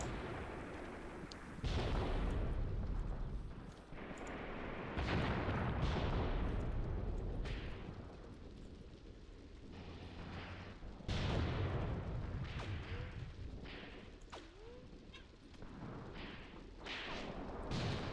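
Heavy gun firing in the war game Graviteam Tactics, deep booming shots and explosions spaced across the stretch with rumbling tails, some landing closer and louder than others.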